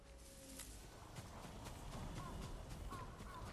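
Hooves of a draft horse clip-clopping at a walk in the video game Ghost of Tsushima, a soft rhythmic series of steps under game ambience and music.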